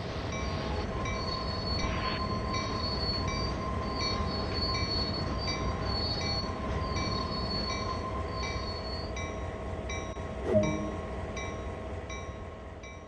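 A GP38-2 diesel locomotive in Train Sim World 2 rumbles as it brakes to a stop, with a steady low drone and wheel squeal. A sharp clank sounds near the end.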